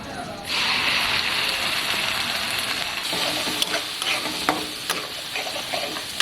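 Ginger, garlic and tomato paste goes into a pan of frying onions for chicken keema ghugni, setting off a loud, steady sizzle with a few brief clinks of stirring.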